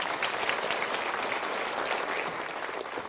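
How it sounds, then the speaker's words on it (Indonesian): A crowd gives dense, steady applause at a motivational seminar, loud and continuous throughout without any break. "Yuk kita berikan tepuk tangan."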